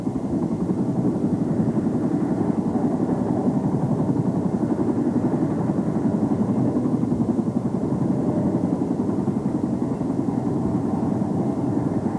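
Boeing CH-47 Chinook tandem-rotor Army helicopter, a steady loud rotor and turbine drone that holds at an even level throughout with no talk over it.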